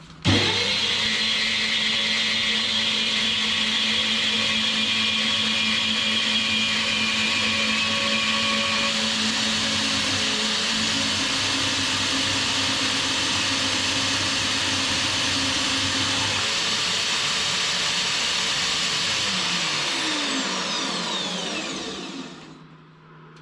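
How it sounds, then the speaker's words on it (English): A power saw cutting metal pieces for a welding cart in a workshop, a loud steady whining drone that holds for about twenty seconds before spinning down to silence. "I set up the angle on my saw using a protractor to get more accurate cuts"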